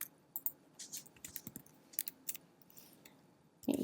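Typing numbers into a spreadsheet on a computer keyboard, heard as sparse, quiet key clicks scattered across a few seconds with soft pauses, ending in a louder clatter.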